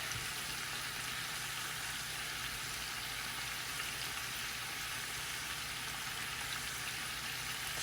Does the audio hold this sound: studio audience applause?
no